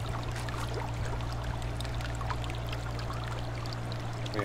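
Water pours out in Medieval Dynasty, a steady trickling, splashing stream running continuously over a low droning hum, with no talk.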